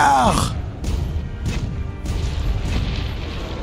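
Cannon fire in Monster Hunter World aimed at the colossal Zorah Magdaros: a heavy booming blast opens, followed by rumbling low impacts and further dull thuds over an ongoing game soundscape.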